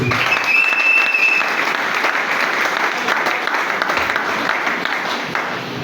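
A church congregation applauds and cheers the Lord, with dense, loud clapping that carries on steadily and fades a little toward the end, and a few voices rise within it.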